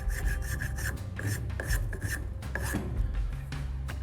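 Hand rasp or spokeshave shaping wood for a mortise and tenon mallet, heard as repeated rough scraping strokes in an uneven rhythm, close and moderately loud.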